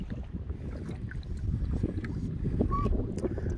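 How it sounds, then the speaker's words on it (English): A kayak is paddled across a lake in the Apostle Islands toward an anchored boat, with a steady low wash of water and wind noise and soft, faint splashes from the paddle. "We are paddling over to the Ranger to see"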